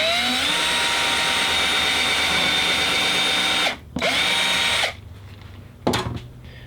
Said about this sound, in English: And then we'll drill this hole through.